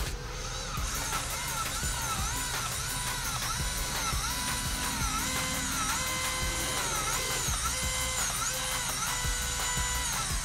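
A Traxxas Slash 4x4 RC car's repaired electric motor runs with a steady, high-pitched whine that wavers in pitch, continuous and close for about ten seconds with no talking.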